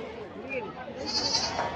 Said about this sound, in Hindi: माशाल्लाह बड़ा बकरा है,